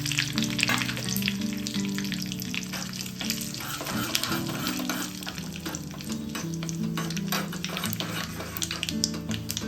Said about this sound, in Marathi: तेल गरम झाल्यानंतर त्यात थोडीशी मोहरी टाकायची आहे कढीपत्ता आणि पांढरे तीळ टाकायचे आहेत